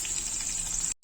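Food frying in hot oil gives a steady, close crackling sizzle that holds evenly for about a second, then cuts off abruptly.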